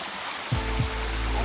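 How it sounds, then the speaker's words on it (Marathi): Broad steady rush of water from waterfalls and a clear stream, continuous and fairly close, with a couple of low thumps partway through and no talk. "आणि इथे मस्त असे धबधबे आहेत"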